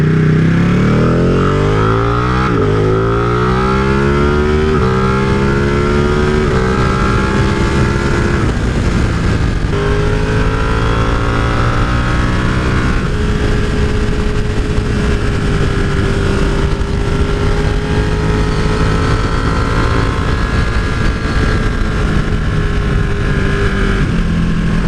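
A Ducati 959 Panigale engine drones loudly while riding, its tone climbing and settling through several gear changes over steady wind rush, with no talking.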